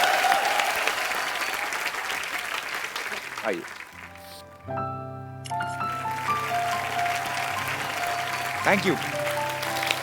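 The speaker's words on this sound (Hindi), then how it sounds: "रवीना जी के लिए एक बार जोरदार तालियां।" Studio audience applause on a comedy talk show swells, breaks off briefly while a musical chime sounds, then resumes under brief talk from the hosts.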